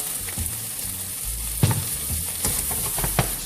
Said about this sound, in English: Give that a quick saute